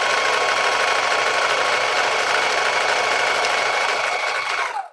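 A domestic sewing machine stitches fabric held by hand without pins, a steady fast whirring drone running continuously and loud before cutting off abruptly at the end.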